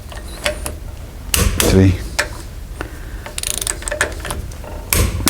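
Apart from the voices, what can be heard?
torque wrench tightening bolts on Land Rover Defender rear axle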